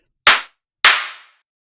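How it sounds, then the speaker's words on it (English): Two synthesized dubstep clap variants made in the Serum synth fire one after another, each a sharp, bright noise burst, the second with a longer fading tail, alone with no other sound. "we made 3 different clap variants that all sound completely different from each other"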